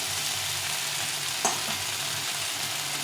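Chopped vegetables are stir-fried in a pan for a pea-greens dish, a dense, even sizzle that stays steady at moderate loudness, with one brief clink of a spatula midway and no talking.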